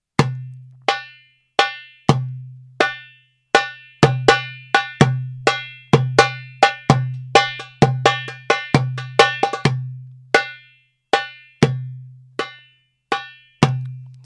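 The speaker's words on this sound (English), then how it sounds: "if we wanted to change Malfuf to a Maqsoom, it would sound like this." A darbuka shifts from a Malfuf rhythm into a Maqsoom, played solo and close: crisp tek strikes and booming doums, with a busier stretch of quick rolled hits midway before settling back into an even pattern.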